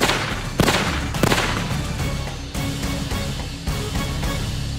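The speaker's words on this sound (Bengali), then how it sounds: "রুদ্র গুলি চালায়।" Gunshot sound effect in a Bengali horror detective audio drama: a couple of sharp, loud cracking bangs close together near the start, then fading reverberant rumble, with no speech over them.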